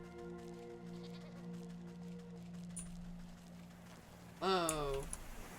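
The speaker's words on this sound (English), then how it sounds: "So many goat. So cute." Cartoon goats in the Wytchwood video game give a short, loud bleat near the end, following a steady hum of game music, with no talking over it.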